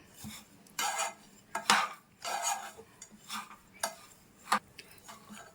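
A spatula scrapes and clinks against a pan in repeated close strokes as sweet kajjikaya filling fries over a low to medium flame, with no voices.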